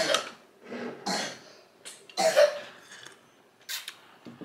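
A sick child coughs repeatedly at home, a string of short, harsh bursts at an uneven rhythm, close and fairly loud, with quiet pauses between them.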